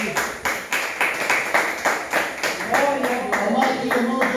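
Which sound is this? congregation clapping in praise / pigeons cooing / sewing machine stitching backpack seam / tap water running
congregation clapping in praise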